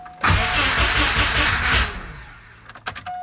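A Subaru EJ205 engine swapped into an Impreza 2.5RS GC8 cranks and catches, roaring loud and close for about two seconds before dropping to a rough idle with a few ticks and clatters, with no talking.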